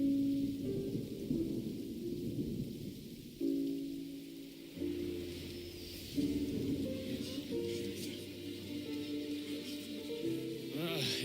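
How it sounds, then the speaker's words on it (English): Rain patters steadily while low rumbling thunder rolls underneath in the video game Genshin Impact, with a synthesized musical drone layered throughout. "It's raining! Oh no, Paimon forgot to bring an umbrella!"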